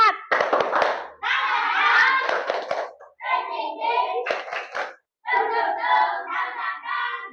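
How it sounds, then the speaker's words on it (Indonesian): A classroom of children performs a rhythmic spirit-clapping ice breaker, bursts of patterned group claps in several phrases with short pauses between, children's voices chanting along close by. "Ayo kita ice breaking, tepuk semangat."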